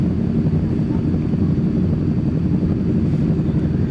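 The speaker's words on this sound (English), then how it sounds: "the A380 sounds more like a motorcycle gang tonight" Jet engines of an Airbus A380 at night, heard as a steady, loud low rumble with a rough, throbbing texture that holds evenly throughout, no voices over it.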